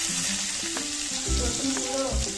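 Chopped garlic fries in hot oil with bay leaf, dried chilli and cumin, giving a loud, continuous sizzle with occasional light knocks of a spoon against the pan.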